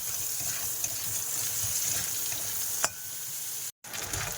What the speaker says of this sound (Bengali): কড়াইতে তেল দিয়েছি, আর সাথে ভেজে রাখা কাঁকড়াগুলো দিয়ে দিচ্ছি।